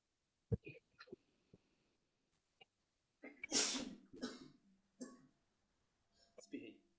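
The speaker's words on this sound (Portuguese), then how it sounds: "Espirrei." One sharp, loud sneeze rises out of a quiet room, with a few soft clicks and small noises before it and brief murmurs after.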